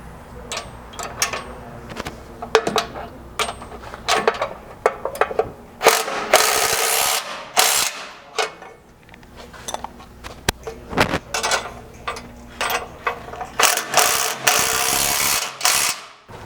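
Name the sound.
wrench tightening through bolts on Jeep bumper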